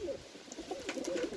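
Tumbler pigeons kept as breeding birds coo softly and close by, with a few low, throaty coos rising over a quiet loft.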